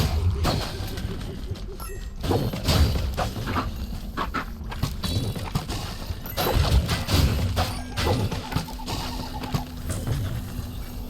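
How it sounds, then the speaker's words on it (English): Clay jugs filled with gems shattering in Minecraft Dungeons, a series of short crashes and clinks with tinkling gem pickups over game music and ambience, at moderate loudness. "Breaking little jars."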